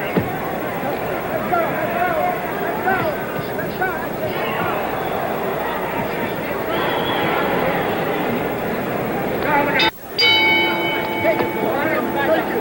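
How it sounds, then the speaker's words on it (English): Boxing bell struck once for round 9 at a crowded San Diego Sports Arena fight, a bright ringing clang near the end rising over steady crowd roar and a commentator talking. "The bell for round 9."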